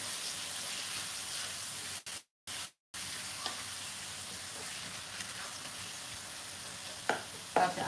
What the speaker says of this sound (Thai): เราจะผัดหมูให้สุกก่อนนะคะเราต้องเอาหมูให้สุกก่อน